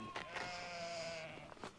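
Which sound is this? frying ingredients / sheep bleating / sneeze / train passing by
sheep bleating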